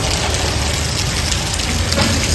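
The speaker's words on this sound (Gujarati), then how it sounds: "વરસાદ દેખો કેવો ચાલુ છે" Heavy rain falls steadily and loudly outside a house, a dense, continuous hiss of drops with no pauses and no voices.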